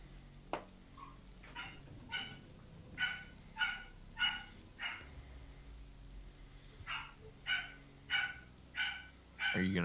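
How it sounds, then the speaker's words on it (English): A dog barks outside behind the house in short bursts of two or three sharp barks, repeated steadily at moderate distance, with quiet gaps between the volleys. "Joel's actually barking out back right now with Val"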